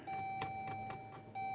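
A 2020 Jeep Grand Cherokee's instrument cluster gives a short run of quick electronic beeps at engine start, close and clear over a steady tonal hum.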